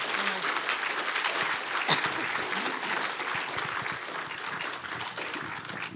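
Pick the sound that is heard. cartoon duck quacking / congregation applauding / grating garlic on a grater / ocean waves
congregation applauding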